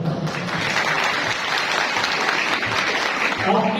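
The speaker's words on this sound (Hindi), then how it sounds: "आपकी जोरदार ताली" A congregation at a Sunday Mass claps continuously. The applause is dense and fairly loud, with faint voices mixed in.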